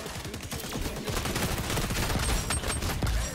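Gunfire in the XDefiant shooter game crackles as a dense, continuous exchange of overlapping shots from several weapons at a steady loud level, with no one talking.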